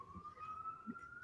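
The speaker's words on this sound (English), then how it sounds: "you heard the sirens?" A police siren wails faintly in the distance, one steady rising tone held briefly under a quiet background.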